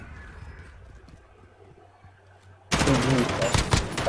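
Rapid automatic gunfire erupts suddenly in a shooter video game match, a dense, loud burst of shots after a quiet stretch with faint background noise.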